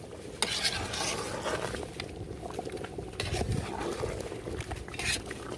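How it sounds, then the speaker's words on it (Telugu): Homemade yogurt is stirred into a simmering Mughlai chicken curry in a pot, giving a soft, steady wet churning and scraping that stays close with a faint bubbling underneath and no voices. "యోగట్ వేసుకొని తిప్పుకోవాలి"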